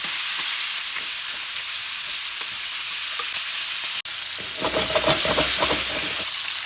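Chicken pieces fry in hot oil in a pan, hissing with a steady bright sizzle, then spattering and clinking louder as the meat is stirred and turned.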